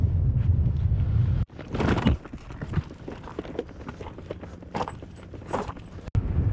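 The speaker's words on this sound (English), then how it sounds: "So as you can probably hear, it's so windy and I'm going against it." Strong desert headwind buffets the microphone of a cyclist in Jordan in loud, continuous gusts with low rumbling, broken by brief dropouts and some rattling.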